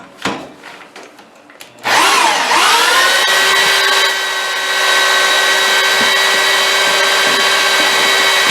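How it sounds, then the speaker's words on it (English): After a few clicks and taps, a power drill whirs up to a loud, steady high-pitched whine and keeps running, close by. "Now we have a drill that actually works."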